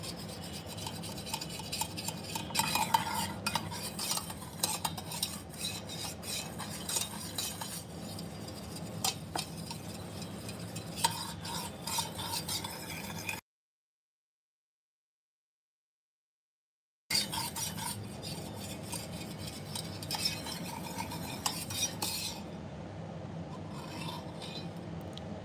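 A spoon rubs colour against the side of a jar in quiet, continuous scraping and rasping strokes, with a few seconds of total silence midway before the rubbing resumes.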